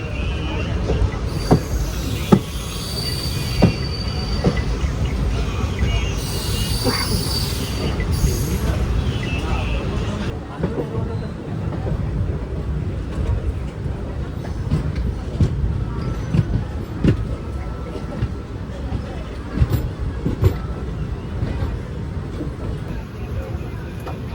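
Loud rumbling of the Ernad Express train at the platform of Thalassery railway station, wheels clattering with occasional squeals and thumps, hiss fading after the first ten seconds; faint voices in the background.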